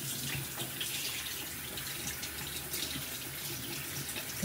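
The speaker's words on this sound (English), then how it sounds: "I have to turn on the water" Tap water runs steadily into a sink during hair styling at home, a constant close hiss and splash lasting throughout without pause or speech.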